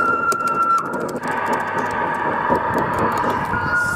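A coin-operated Puffing Billy train kiddie ride hums and rumbles steadily, with a mechanical whir and a faint tone at the start; no voices.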